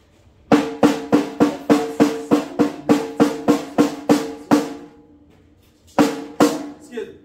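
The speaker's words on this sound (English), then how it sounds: "So the 14-stroke roll simply sounds like this." Snare drum playing a fourteen-stroke roll: a quick run of about fourteen sharp, evenly spaced strokes, close and loud, then a short pause and a few more hits.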